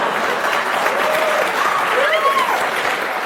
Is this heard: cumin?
no